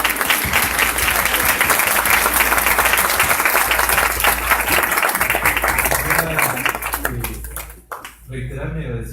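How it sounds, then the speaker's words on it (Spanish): Dense, loud applause from a seminar audience fills the room for several seconds, then tapers off as a voice begins speaking near the end. "antes de darles un merecidísimo aplauso"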